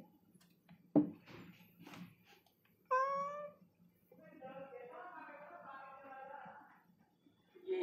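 A cat sitting at a door in a housing society meows, first one clear rising call and then a longer, wavering meow, with a few soft thumps and faint background sounds between them.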